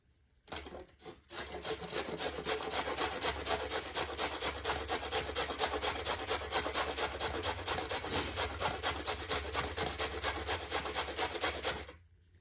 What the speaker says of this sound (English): I'm going to grate it with the same size that I grated the slaw with